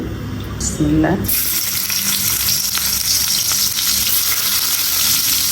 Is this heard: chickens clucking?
no